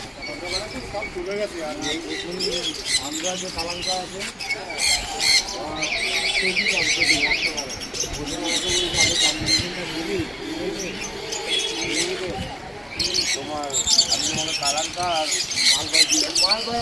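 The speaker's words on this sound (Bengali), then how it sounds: "এবার আপনাদের পায়রার কালেকশন দেখাই, চলুন" Pigeons and other caged birds squawk and chirp nonstop in a busy animal and bird market at Baguiati Jora Mandir, with people talking underneath the steady din.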